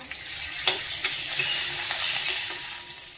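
Garlic cloves, ginger, fenugreek seeds and spices sizzle steadily in hot oil in a pan for a raw mango curry, with a few sharp stirring clinks against the pan over a continuous frying hiss.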